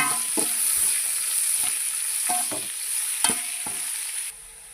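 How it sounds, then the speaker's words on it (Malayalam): Ingredients being stirred in a pan of hot coconut oil with mustard seeds, a spoon knocking and scraping in irregular strokes over a constant bright sizzle, close and loud, then cutting off abruptly near the end. "നമ്മൾ പാത്രം വെച്ച് വെളിച്ചെണ്ണ ഒഴിച്ച് കടുകിട്ടിട്ടുണ്ട്. ഇനി വെച്ച് എല്ലാ സാധനവും ഇട്ട് കൊടുത്ത് നന്നായി ഇളക്കുക."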